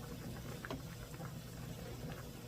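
Kimchi stew simmers in a pot, giving off a faint, continuous bubbling and crackling texture with no talking.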